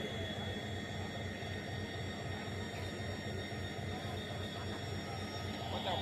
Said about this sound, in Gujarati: ટ્રેન આવી ગઈ છે હવે ગાંધીગ્રામ વાળી.